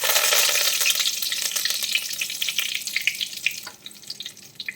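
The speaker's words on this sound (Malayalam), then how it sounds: "എണ്ണ ചൂടായി കഴിഞ്ഞാൽ ആദ്യം നമുക്ക് കുറച്ച് കറിവേപ്പില ഇട്ട് കൊടുക്കാം" Curry leaves dropped into hot oil for fried chicken dum biryani crackle and spit in a loud, dense sizzle that gradually settles into fainter, scattered pops.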